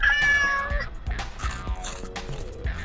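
A hungry cat meows loudly and close by at feeding time, a drawn-out plaintive call followed by shorter cries amid small clicks and bumps of eating, with no talking.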